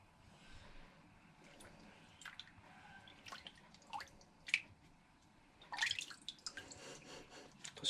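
Water drips and splashes quietly while a hydro-dipped part from a Kawasaki 250 KXF dirt bike is rinsed, with soft irregular patters and a few brighter splashes near the end.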